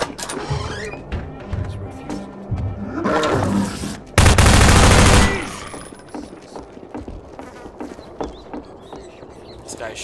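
Gunfire and combat noise from the video game Half-Life 2 come in bursts, with one loud sustained blast in the middle and quieter clatter around it.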